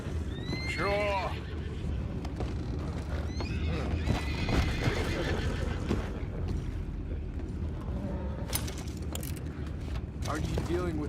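Horses whinny and neigh repeatedly while hooves clip-clop nearby, with characters talking over the commotion, in the video game Red Dead Redemption 2.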